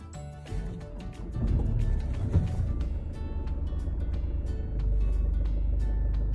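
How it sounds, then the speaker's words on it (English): A Land Rover Freelander 2 engine cranks and catches, then settles into a steady low idle heard up close, with a rise in level partway through. "Start the car."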